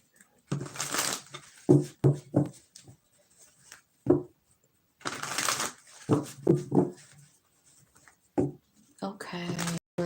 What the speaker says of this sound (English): I'm going to grab this deck of cards here.